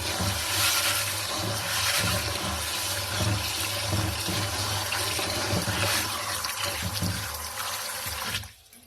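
Aquarium sand, quartz among it, being rinsed in water during an aquarium setup: continuous loud splashing and swishing close by for about eight seconds, then cutting off abruptly. No voices.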